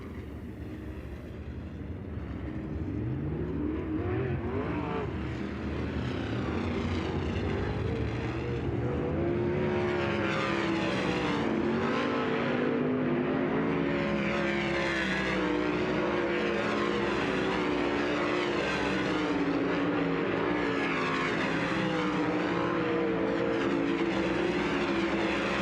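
Several dirt track sprint cars roar through a hot lap session at Las Vegas Motor Speedway, a loud continuous engine drone with rising and falling pitch as cars pass, unbroken for the whole stretch with no talk.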